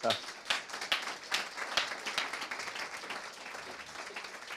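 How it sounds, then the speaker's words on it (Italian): Scattered audience applause at an Italian medical lecture event, sharp individual claps at first that thin into softer clapping, with a voice speaking over part of it. "Luca, grazie un applauso"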